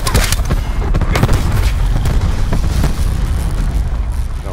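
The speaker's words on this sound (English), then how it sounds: "Hostile lightning strike targeting active." Lightning strike explosions in a multiplayer shooter game boom loud and dense, with sharp blasts at the start followed by a continuous rumbling barrage of impacts.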